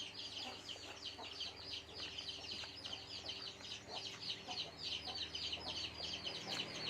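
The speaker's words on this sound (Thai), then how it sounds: "เสียงไก่" Chickens cluck continuously in a steady, busy chorus, a flock sitting close by behind a house, with repeated short calls over low background noise.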